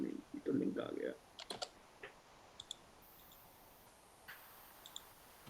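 A command is entered on a computer keyboard in a terminal, producing scattered sharp key clicks after a brief burst of speech at the start, quiet and close in a still room.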